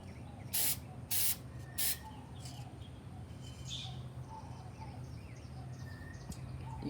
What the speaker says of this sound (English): I'm gonna spray this side one more time.